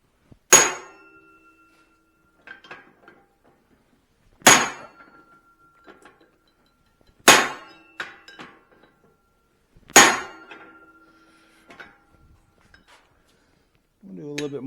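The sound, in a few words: hammer forging a Swedish style cross peen on an anvil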